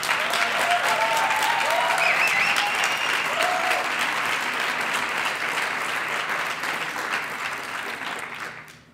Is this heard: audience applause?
yes